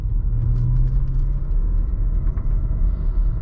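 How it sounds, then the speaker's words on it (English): A 2017 Porsche Macan Turbo engine in sport mode, heard from inside as a steady loud low rumble with a brief rising rev near the start, continuous road and cabin noise throughout. "One thing you notice is it has that typical Porsche engine sound"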